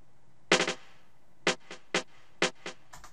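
Snare roll programmed in FL Studio with varying velocities for a 2014 trap-style beat: a quick three-hit burst, then single hits spaced about half a second apart, some loud and some soft, with no talk.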